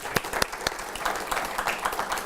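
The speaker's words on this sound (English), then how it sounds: "one big round of applause for our panel" Audience applause for a discussion panel at the end of a question session on the midterm elections, with a few sharp claps at first settling into a steady round of clapping at moderate distance.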